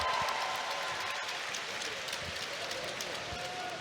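Arena crowd at a Saturday night ABL Invitational basketball game between the Singapore Slingers and Hong Kong Eastern at OCBC Arena, applauding and cheering as the players come out, a dense steady roar of clapping and voices throughout.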